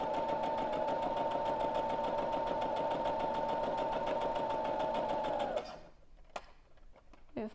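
Sewing machine stitching along the fabric edge of a scrunchie, a steady close mechanical whir that runs for about five and a half seconds before stopping, followed by a few faint clicks.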